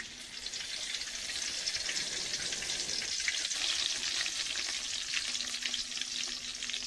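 Oil sizzles and crackles steadily in a wok set on a clay stove, ready for chicken. The frying stays close and loud for the whole stretch, with a faint hint of stirring and no voices.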